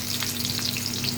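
Bagoong shrimp paste sautéing with onion, garlic and ginger in a pan, a steady close sizzle and crackle of frying with no voices.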